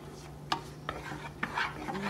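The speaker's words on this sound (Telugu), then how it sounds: "ఉల్లిపాయ వేగేంత వరకు ట్రాన్స్లూసెంట్ కలర్ వచ్చేంత వరకు మనం వేయించాలండి." Onions frying in a pan for a restaurant-style paneer butter masala, stirred with a utensil: a soft steady sizzle under several sharp scraping strokes against the pan, close and without talk.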